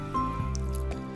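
Bajji batter is stirred with water in a bowl, giving soft, wet squishing and dripping sounds in a few slow pulses against a steady tonal background hum.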